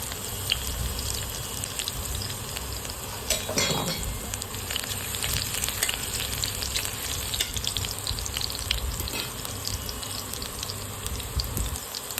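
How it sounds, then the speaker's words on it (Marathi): Cumin seeds and garlic land in hot oil for a methi bhaji and set off a loud, dense, constant sizzle with crackling spatters. It runs unbroken and close, with no talk over it. "तेल तापलेले आहे त्याच्यामध्ये जिरे टाकूया घेतलेला लसूण टाकून देऊया"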